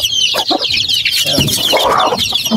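Native chickens on a farm, including a hen with six chicks, cluck and call continuously at close range with busy overlapping chatter and no talking.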